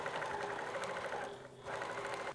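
A sewing machine stitches the side seam of cotton fabric for a nap blanket, a steady close mechanical whir with a brief dip in speed midway before running on.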